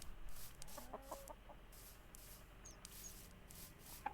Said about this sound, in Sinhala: මෙන්න අලුත් අප්ඩේට් එකට ආපු කුකුල් පැටිය